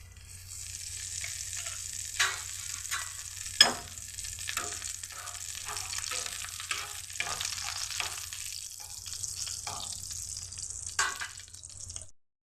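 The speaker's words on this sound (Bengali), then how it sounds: "এখন এটার মধ্যে শুকনো লঙ্কা, তেজপাতা, এলাচ, দারচিনি আর পাঁচফোড়ন দিয়ে দিচ্ছি" Dried chillies, bay leaf, cardamom, cinnamon and panch phoron hit hot oil with a sharp burst of sizzling, then a steady close crackle with intermittent pops that cuts off abruptly at the end.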